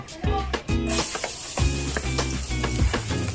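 Chopped garlic sizzles in hot oil in a preheated pan, a steady hiss running through the clip beneath tonal background music with rhythmic low notes.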